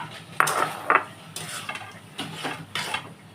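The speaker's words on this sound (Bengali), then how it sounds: "আমি এখানে 1 বাটি কর্ন দিয়ে দিচ্ছি।" Corn poured from a bowl into a pan of spiced masala for corn korma, giving two sharp clinks of metal on cookware followed by several soft scraping and stirring sweeps, close and fairly quiet with no talking.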